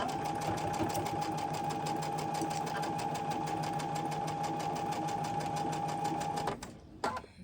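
A sewing machine chain stitches rows of fabric in a quilting studio, running as a steady, fast, continuous mechanical whir for about six and a half seconds before it stops abruptly, with a brief final burst of stitching.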